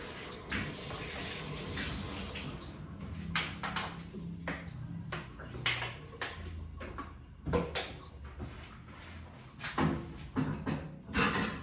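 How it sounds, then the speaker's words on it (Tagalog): Used cooking utensils being washed under a running tap in a kitchen: a steady wash of flowing water broken by repeated clinks, knocks and clatters of the pieces being handled, with no talking. "hugasan ko ngayon mga pinagamitan ko"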